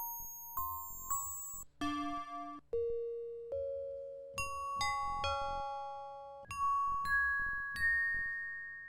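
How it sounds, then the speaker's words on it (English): Synth bells in a music production loop ring out as clean, bright struck tones, one note at a time with long decaying tails, forming a slow melodic sequence with no voices. "let's see what's in the synth bells"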